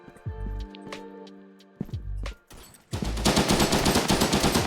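Gunfire in the online PvP shooter Frontline Inferno: a few separate shots with ringing tails, then a dense, loud burst of rapid automatic fire filling the last seconds, with no talk over it.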